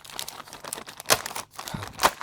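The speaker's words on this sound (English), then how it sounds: "I'll just open the other bag with the 1 screw." A small plastic bag holding a single screw from a Tamiya 1/35 Panzer IV Ausf D model kit is opened nearby, with soft crinkling and a few sharper rustles and tearing bursts, no voices.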